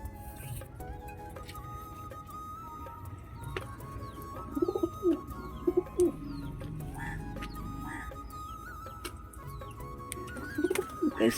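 Pigeons in a loft coo in low, throaty bursts at intervals, over a busy background of shuffling, scratching and faint chirps.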